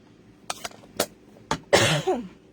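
A woman coughs several times, three short dry coughs spaced about half a second apart, then a longer rough throat-clearing cough, close and fairly quiet in a quiet room.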